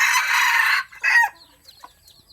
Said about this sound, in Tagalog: Ganda ng tilaok ni tagpas mga idol.